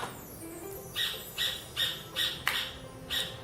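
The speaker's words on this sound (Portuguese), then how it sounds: "esses gritinhos é porque ele, o passarinho tá querendo comida" A pet bird gives a series of six or seven sharp, evenly spaced squawks begging for food, loud and close, with quiet room tone between calls.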